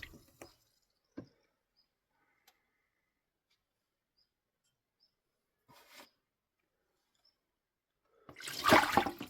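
Water from a campervan tap rushes into a bucket in a short, loud splashing burst at the end, after near silence broken by a few faint clicks and knocks.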